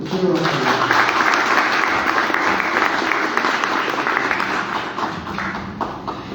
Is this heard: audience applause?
yes